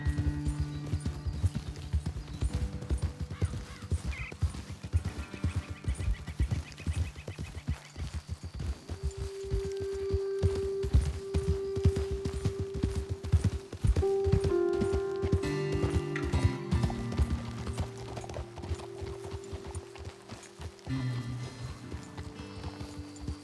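A horse ridden in Red Dead Redemption 2 clip-clops steadily along a trail, its rhythmic hoofbeats continuous and close, with a low tonal hum joining partway through and no talk.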